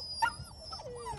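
Puppies whimper nearby, a few short, faint high-pitched whines and yips over a quiet background within about a second.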